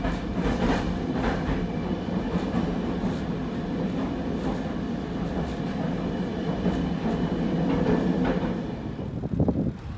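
Inside a railway carriage pulling away from a platform, a loud steady rolling rumble with faint rhythmic wheel clatter and a brief squeal near the end, no voices.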